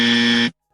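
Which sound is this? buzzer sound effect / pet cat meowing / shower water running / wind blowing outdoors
buzzer sound effect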